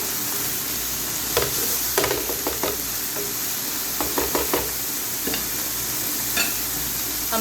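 Boiled mutton mince fries in a pan with a constant hissing sizzle, punctuated by clusters of quick spatula scrapes and taps against the pan, close by and without speech.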